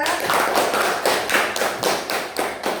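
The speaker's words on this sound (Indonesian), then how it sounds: "Kasih aplaus dong untuk kelompok 2" A fifth-grade Islamic religious education class claps for group 2: a steady run of quick, even hand claps at close range, fairly loud, with no talking.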